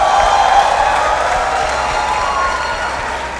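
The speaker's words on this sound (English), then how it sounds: "let us all give a big round of applause for the class of 2023" A graduation dinner crowd applauds the graduating class of 2023, a dense burst of clapping mixed with a few cheers and whoops that gradually eases off.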